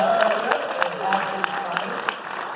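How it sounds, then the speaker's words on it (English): Applause at a charity gala for Craig Shelley watches, a short burst of crowd clapping heard under a speaking voice. "Round of applause for Craig Shelley watches."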